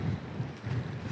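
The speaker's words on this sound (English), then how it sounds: "Still windy." Steady wind blows past a seaside castle ruin, its low rumbling gusts buffeting the microphone with no voices.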